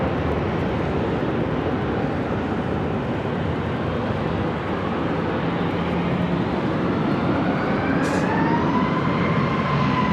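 A Southwest airliner on runway 24 left at LAX, a steady broadband jet roar that fills the whole stretch, loud and unbroken, with a faint rising engine whine toward the end and no talk.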